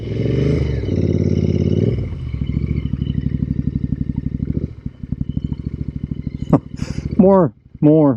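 A Royal Enfield Interceptor rides over loose gravel, its engine thrumming steadily and close with a throttle blip near the end, while someone talks over it.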